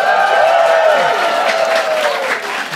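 A live podcast audience in Zurich claps and cheers loudly and close up, dense applause holding steady throughout with a bright whistle or shout rising above it near the start.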